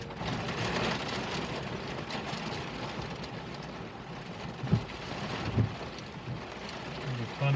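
Steady rain patters with a low rumble, likely heard from inside a vehicle during a cold storm chase, continuous and moderately loud with a few soft knocks.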